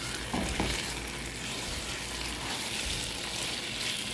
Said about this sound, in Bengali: কচুটা আমি মাছের সাথে ভালো করে ভাজা ভাজা করে নিয়েছি